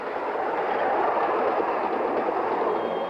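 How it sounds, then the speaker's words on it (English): A freight train rolls along the rails in Australia, a steady broadband rumble and rush of wagons passing, continuous and fairly loud with no voices. "hundreds of trains are on the move, picking up, hauling and delivering freight"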